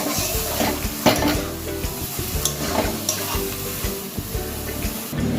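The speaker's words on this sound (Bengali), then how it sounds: "এখানে আমি মশলার পেস্টটা দিয়ে দিয়েছি, এবার ভালো করে ভেজে নিতে হবে।" Spice paste with black cumin frying and being stirred in a pan, a steady close sizzle with scraping stir strokes and light utensil clatter throughout, no talking.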